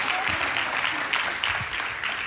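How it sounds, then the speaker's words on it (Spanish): A church congregation gives an ovation, a brief burst of continuous, dense clapping filling the room. "te ganaste una ovación"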